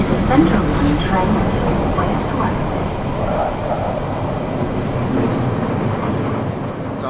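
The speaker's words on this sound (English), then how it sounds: "This is a Central Line train" Riding a London Underground Central Line train near Chancery Lane: loud, steady rumbling roar of the carriage with rattling clickety-clack over the tracks, continuous throughout, with no one speaking.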